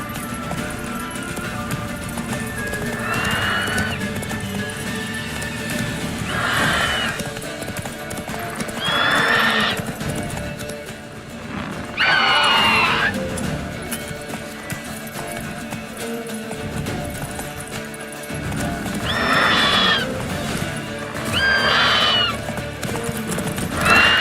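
Roach, a horse in The Witcher 3, gallops in steady, loud clip-clopping hoofbeats that run the whole time, with several whinnies and neighs repeating every few seconds over the rhythm, close and with no talking.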